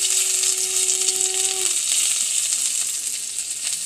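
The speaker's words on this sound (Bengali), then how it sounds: "একটা গোটা লঙ্কা দিয়ে দিচ্ছি, সামান্য 5 ফোড়ন দিয়ে দিচ্ছি, পেঁয়াজের কুচি দিয়ে দিচ্ছি," A whole chili, panch phoron and chopped onion sizzle in hot oil, giving a loud, close, continuous hiss that holds steady for a few seconds, with a faint tonal whine at the start.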